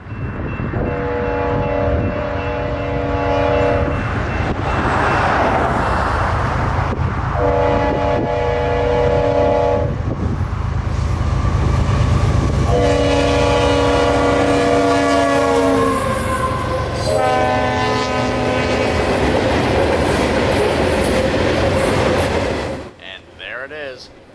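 A loud freight train with grain and automobile cars rumbles past in Central Florida as its locomotive horn blasts in several long chords, with rolling wheel clatter underneath and a brief quiet at the end.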